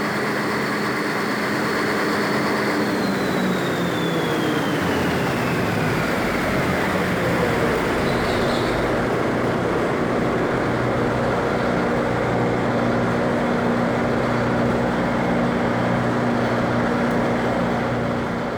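A ship's emergency generator runs with a steady loud diesel drone and a constant mechanical hum, and a whining tone sweeps downward early on as it settles into a continuous roar, with no talk.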